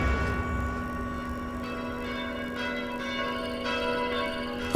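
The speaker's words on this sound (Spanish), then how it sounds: "las campanas de la iglesia de Saint-Germain-l'Auxerrois dieron la señal" The church bells of Saint-Germain-l'Auxerrois in Paris ring with sustained, resonant tones that hum over each other at a moderate, even level, a few fresh strikes blooming over the lingering drone, with no voices.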